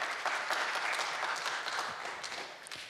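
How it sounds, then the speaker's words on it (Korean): An audience at a Radio Korea scholarship quiz contest claps after a student's flute performance, a dense, steady round of applause that carries on for a few seconds. "여러분들 박수 한번 더 주시죠."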